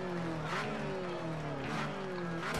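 A Mini rally car in a racing video game revs its engine at a race start, a steady buzzing engine tone with rising and falling pitch sweeps, loud and alone.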